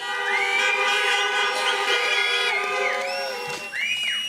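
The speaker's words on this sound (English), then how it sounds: "Parents, for those of you that this is your first graduate, honk your horn, clap, give the applause" Car horns honk over and over at a drive-in high school graduation, several tones overlapping and sliding in a continuous, loud chorus, with cheering and scattered clapping mixed in.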